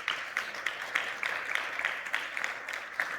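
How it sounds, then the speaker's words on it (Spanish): Church congregation applauding during a Spanish-language service, fairly faint, steady rhythmic clapping in unison with evenly spaced beats. "¿Cuántos damos un aplauso al Señor por eso?"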